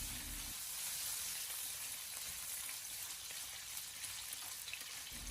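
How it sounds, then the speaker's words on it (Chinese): Pieces of sliced pork belly sizzle and spit in hot oil in a wok over medium-low heat, a steady close hiss that holds evenly from start to finish. "油热之后，将切好的五花肉放进锅中，用中小火给它煸炒一下"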